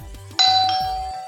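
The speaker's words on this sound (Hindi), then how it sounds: "ये तो घंटी की आवाज है।" A single bright bell chime rings out clearly and then lingers, fading slowly with no voices around it.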